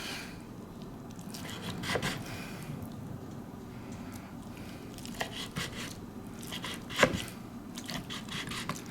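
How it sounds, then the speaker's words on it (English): A knife slices through bacon-wrapped barbecue meatballs with soft, scattered cutting and squishing sounds, close up and fairly quiet, with one sharper knock partway through. "The bacon cuts no problem."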